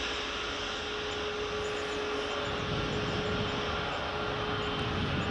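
A United airliner taxiing at Edinburgh Airport makes a continuous broadband engine roar with a steady whine, heard from a distance, fairly faint and unbroken, swelling slightly toward the end.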